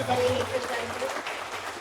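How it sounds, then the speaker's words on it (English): An audience at a property investment talk in Kota Kinabalu claps for the speakers, a moderate spread of applause mixed with voices and a low hum in the room. "Let's give them a big round of applause."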